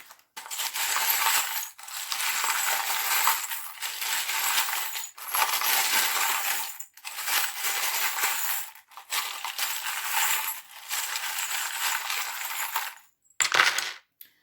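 Small tarot reading charms are shaken and dropped in repeated bursts of bright metallic rattling and jingling, seven or eight loud clusters separated by short pauses, close and alone.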